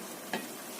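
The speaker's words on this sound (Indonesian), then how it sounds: "Aduk rata." A sauce with sesame oil and stock powder is stirred in a pan, soft continuous scraping under a faint sizzle, with two brief louder strokes of the utensil.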